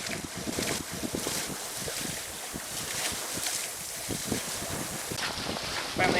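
Sailboat tacking back and forth in a light southwest breeze off Cabo Rojo, Puerto Rico, with constant wind buffeting, water rushing along the hull and occasional thumps and creaks, all without talk.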